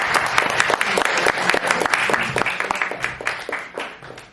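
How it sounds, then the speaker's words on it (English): An audience at a cast and crew Q&A applauds with dense, lively clapping that holds steady and then gradually thins out. "Clap it up for her."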